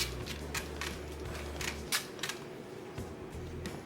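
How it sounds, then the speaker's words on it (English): A spritzer mists oil onto raw chicken pieces in a kitchen, several short soft sprays in an uneven rhythm, close and fairly quiet over a low background hum. "spritz a little bit of oil onto your chicken"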